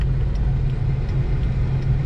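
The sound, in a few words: road traffic passing on a weekend street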